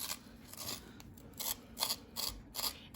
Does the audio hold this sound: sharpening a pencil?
yes